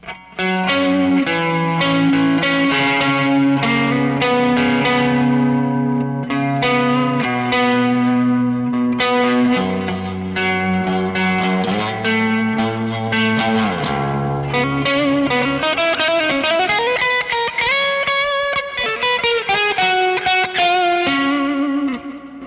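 An electric guitar through a Peavey 6505 MH tube amp plays sustained chords and melodic lines with a gritty, overdriven tone and a wash of reverb trailing each note.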